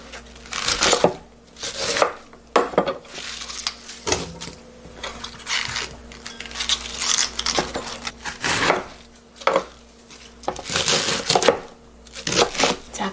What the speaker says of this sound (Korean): 한 입 크기로 잘라줄게요